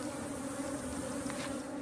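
Aggressive Africanized bees buzz in a continuous, steady drone throughout, close and fairly even in loudness with no talking.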